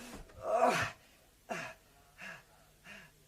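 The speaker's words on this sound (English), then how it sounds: "a panting pause on each, and a pitched battle for breath on the half landing" In a radio drama, a man pants for breath after climbing stairs. One long labored gasp is followed by three shorter, fainter huffs, spaced about a second apart, close and alone without speech.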